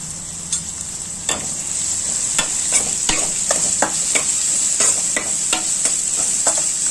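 Chillies and crushed garlic sautéing in oil for sambar make a loud, bright, continuous sizzle, with quick ladle scrapes and taps coming steadily throughout.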